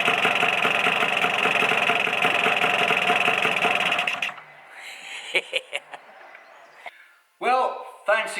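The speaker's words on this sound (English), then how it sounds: "Now we've got get an engine that's running a bit better." A Lambretta scooter engine fitted with an RT kit runs steadily up close for about four seconds with a buzzy, rapid idle, then cuts off, leaving a quiet workshop with clicks and someone talking.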